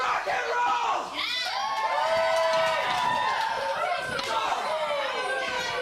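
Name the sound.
wrestling crowd cheering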